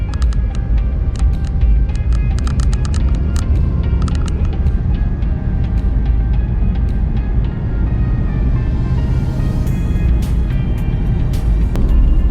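A Maruti Ignis petrol AMT car drives through stop-and-go traffic, heard as a steady low engine and road rumble from inside the cabin, with faint ticking clicks and passing traffic noise throughout.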